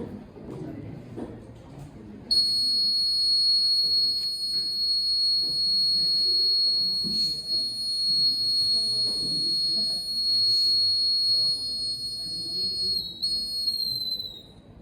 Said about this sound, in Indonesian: Arus listrik yang mengalir akan menghidupkan output berupa buzzer dan lampu.